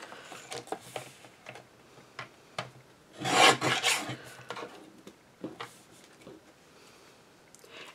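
Paper card stock is trimmed at the top edge with scattered small close clicks and rubs, then one louder rasping cut lasting about a second, followed by a few softer handling taps, all faint and without talk.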